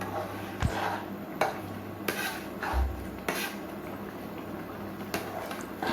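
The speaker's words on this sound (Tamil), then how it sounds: "நம்ம அரைச்சி வச்சுருக்க கத்திரிக்காய் இந்த புளி தண்ணியில் சேர்கிற மாதிரி நல்லா கிண்டி விட்டுக்கலாம்" A spoon stirring ground eggplant into tamarind water in a metal pot, with intermittent clinks and scrapes against the pot and soft liquid sloshing at a moderate, quiet level.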